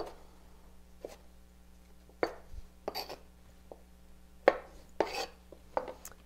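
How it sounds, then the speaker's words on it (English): A knife dices vegetables on a cutting board for a chopped salad, with a steady run of sharp, close chops spaced irregularly and separated by brief quiet gaps. "We just keep dicing."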